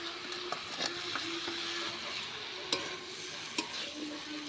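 Jackfruit and potato curry stir-fried in a pan over a clay stove, a soft continuous sizzle with occasional sharp scrapes and clicks of the stirring utensil, fairly quiet and without speech.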